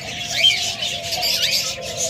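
Lovebirds chirping and calling inside a cage, a steady chatter of thin high tweets and squeaks close by, with a low hum underneath throughout.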